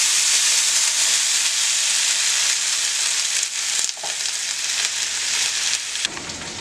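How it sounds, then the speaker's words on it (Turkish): Loud, continuous crackling sizzle of fat poured into a hot pan for kavurma, hissing bright and steady, easing slightly near the end; no voices. "şimdi sudan geçirmiş olduğum yağımı içine döküyorum"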